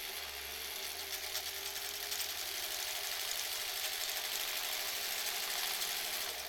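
A sewing machine runs steadily while stitching fabric face masks on an assembly-line run, a continuous close mechanical whir with a low motor hum throughout and no talk.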